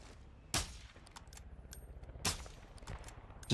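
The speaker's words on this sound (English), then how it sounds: "I'm just gonna shoot that vehicle just in case." Gunfire at a vehicle in the Call of Duty DMZ video game, two sharp loud shots about two seconds apart with scattered fainter pops and clicks between them.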